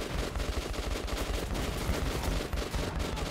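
Rapid gunfire in Metro 2033 Redux on the Switch, a dense stream of overlapping shots and bursts, loud and close, running continuously with no talk over it.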